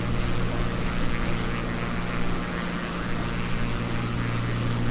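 Beechcraft Bonanza V35 piston engine in Microsoft Flight Simulator, a loud, steady propeller drone with a low humming tone, continuous throughout without talk.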